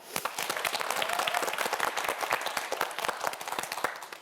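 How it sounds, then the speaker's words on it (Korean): A studio audience on a TV quiz show claps warmly for a nervous student contestant, a sustained round of crisp, dense clapping that holds steady before tapering slightly. "저희가 한번 박수를 쳐볼까요?"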